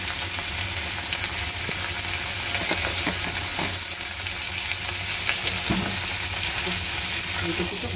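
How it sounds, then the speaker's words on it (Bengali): Food frying with a pinch of turmeric in oil in a pan, producing a continuous close sizzle with scattered stirring scrapes and small knocks throughout. "ভাজছি, ভেজে তারপরে মশলা দিয়ে কষিয়ে তারপরে রান্না করবো।"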